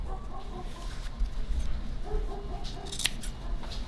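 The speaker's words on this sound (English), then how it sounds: "Then cut off the sides too, Joe." Scissors trimming excess fabric from the sides of a sewn placemat, faint repeated snipping cuts close by over a soft background hum, with occasional low speech.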